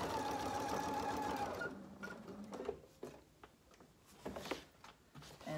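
A sewing machine back stitches across the band of a market bag at a stress point, a short steady whir at first, then a series of separate mechanical clicks and taps as the fabric is shifted.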